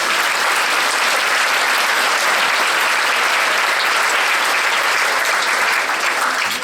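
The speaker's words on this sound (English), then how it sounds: "Please give them a round of applause." Loud, sustained clapping from a large crowd, dense and even throughout without a break.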